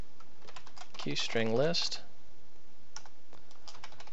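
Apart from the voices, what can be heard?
typing on a computer keyboard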